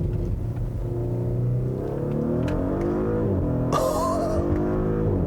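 The exhaust of a 2018 Audi SQ5 with an 8-speed ZF automatic rumbles as the engine note climbs and drops through gear changes, with a brief crackle near the end, loud and close with no talk.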